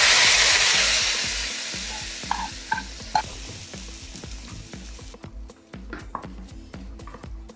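Hot tempering of fried shallots, mustard seeds and curry leaves poured into a beef curry sizzles loudly at first, then fades into softer crackles and scattered clinks of a spoon stirring the pot, with no voices.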